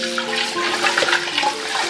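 Water rushing steadily into a cooking pot for boiling biryani rice, a continuous splashing pour up close with no talk.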